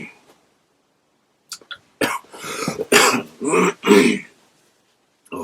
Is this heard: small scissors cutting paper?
no